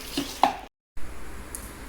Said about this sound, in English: So we have to mix it very thoroughly.